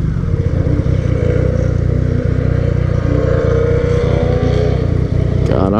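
Rumbling, revving car engine sound from a Chevrolet Camaro, heard loud and steady from close by in a car, with a sharp clatter near the end.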